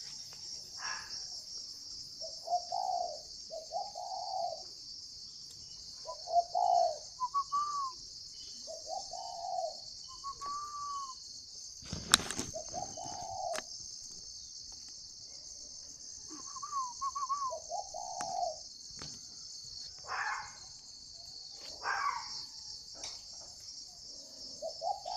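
A spotted dove coos in short, repeated phrases of soft, hollow notes spaced a few seconds apart, against a constant high insect drone and one sharp bump midway.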